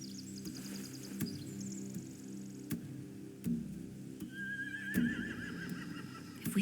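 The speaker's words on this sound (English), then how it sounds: "If we cut those horses free, we could slow down anyone trying to chase us." Horses neigh and whinny in The Walking Dead video game, with a couple of high whinnies over low steady ambience, sharp clicks and soft knocks, fairly faint and with no talking.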